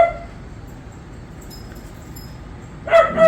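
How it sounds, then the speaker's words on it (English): A puppy barking indoors: after a long near-quiet stretch, a few short high yips burst out close by near the end, alone without talk. "And the puppy dog barking."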